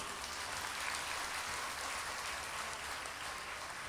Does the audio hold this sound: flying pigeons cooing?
no